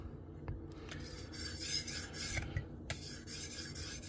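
A kitchen knife drawn along the stones of a TS Prof Kadet Pro guided sharpening system, giving a series of short scraping, rasping strokes at a steady hand pace, fairly close and alone.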